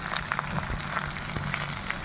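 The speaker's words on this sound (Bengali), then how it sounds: "আমি একটু দিয়ে দেবো অল্প করে একটু কালো জিরে ফোড়ন।" A steady, crackling sizzle comes from potatoes frying in a pan as a pinch of nigella seeds is scattered over them, with scattered small pops throughout.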